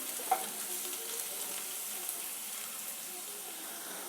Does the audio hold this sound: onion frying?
yes